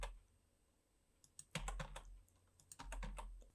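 Computer keyboard keys pressed for Blender modeling shortcuts, a few quiet close clicks then two short clusters of rapid taps, faint and alone.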